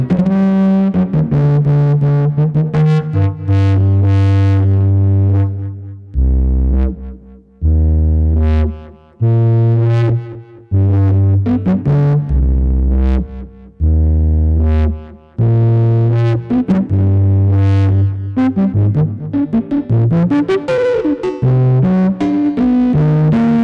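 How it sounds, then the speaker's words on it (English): A Nonlinear Labs C15 synthesizer plays a melodic line with a gritty, saturated tone from feedback distortion, loud and continuous, with bursts of heavy distorted low notes and shimmering effects. "Those self-shaping and feedback lines, they can produce quite a good amount of distortion"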